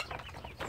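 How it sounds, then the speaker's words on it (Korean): A farmyard flock of chickens busy at morning feeding gives a couple of short, close clucks in a quick burst. "아침에 먹이를 줬는데 닭들이 여기 갔다 저기 갔다가"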